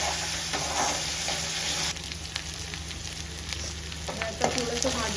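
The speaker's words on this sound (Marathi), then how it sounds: "हे थोडंसं भाजून घ्यायचंय." Vada pav potato filling roasting in a hot pan, with a steady close sizzle and frying hiss throughout plus occasional scraping from stirring; no talking.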